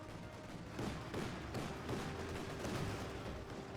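Gunfire crackles in rapid bursts at engineers in the video game Company of Heroes 2, quiet and repeated over a busy battle background with no talk.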